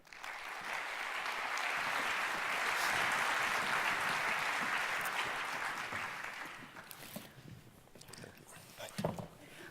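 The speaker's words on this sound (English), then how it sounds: "give them a warm applause" Conference audience applauds as panel guests are welcomed, a broad wash of clapping swelling and holding for several seconds, then fading out into scattered claps and low room noise.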